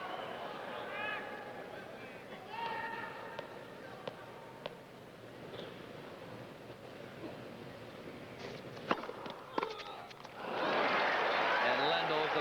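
A tennis crowd bursts into loud, broad applause near the end of a tense McEnroe versus Lendl match, after a stretch of murmuring stands with a commentator talking over it.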